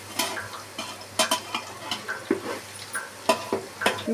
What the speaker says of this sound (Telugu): ఇప్పుడు కాగిన నూనెలో ఈ అల్లం అనేది వేసుకోవాలి.